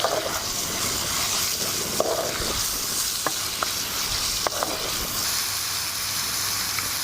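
Chicken fries in a pan with turmeric, chilli, black pepper and salt, giving a steady close sizzle with occasional scraping taps of a stirring spoon.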